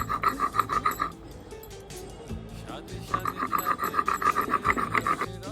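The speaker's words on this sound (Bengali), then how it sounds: "এরপর আমি সম্পূর্ণ মশলাগুলোকে শিলে বেটে নেব, যেমন আদা, রসুন আর শুকনো লঙ্কা।" Ginger, garlic and dried chillies ground by hand on a flat grinding stone for a village-style chicken curry: a steady back-and-forth rasping scrape in close, rhythmic bursts, pausing briefly midway before resuming.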